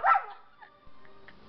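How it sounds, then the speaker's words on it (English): A puppy gives one sharp, close bark at the start, then a few faint yips and whimpers trail off quietly. "He barks back."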